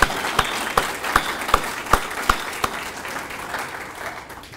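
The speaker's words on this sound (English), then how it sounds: "let's give Carl Callahan a big round of applause for being here today" A Kiwanis club meeting audience in Bradenton applauds for Carl Callahan, steady clapping with a regular series of sharper, louder claps standing out, fading toward the end.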